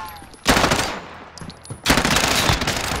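Bursts of automatic gunfire from a Call of Duty: Modern Warfare match, two loud sustained volleys separated by a quieter gap with faint distant shots.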